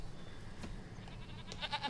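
Goats bleating in the farming game Farming Simulator 25, a few short faint bleats over a low background hum, with no talking.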